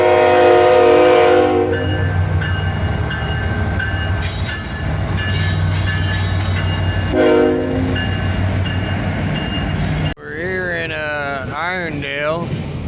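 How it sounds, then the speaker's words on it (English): A mainline train rolls past near Irondale, Alabama, loud and close, with a steady roar of rail cars, squealing wheels and a horn blast, before a voice starts talking near the end. "You can see there's a fucking train going by right now."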